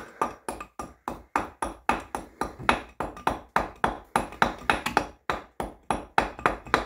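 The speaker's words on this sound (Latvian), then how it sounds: "Tas ir tāds speciālais āmurs, ko izmanto kamīnu meistari, krāsnu meistari" A stove-maker's special hammer taps brick in a quick, steady series of sharp, ringing strikes, about three blows a second, close by and with no talk.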